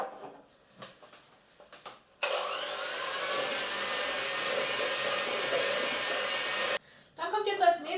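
Electric hand mixer whipping butter and powdered sugar until fluffy, a loud steady motor whine running for several seconds between quieter kitchen clatter, cutting off abruptly before a voice speaks.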